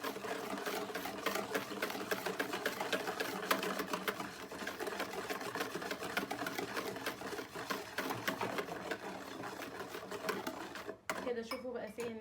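An electric hand mixer beats chocolate cake batter with oil in a home kitchen, whirring steadily and close for most of the stretch before briefly cutting out near the end.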